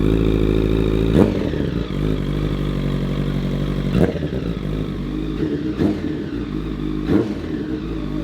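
A project motorcycle's engine runs with a deep, rough, clattering idle close by. It revs sharply several times, with loud bursts roughly every one to three seconds.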